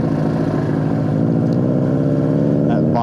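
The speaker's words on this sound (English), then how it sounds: "That Boxer 4 has got a unique sound to it." A Subaru boxer four engine runs loud and close, its healthy exhaust giving a steady throbbing drone that rises slightly toward the end.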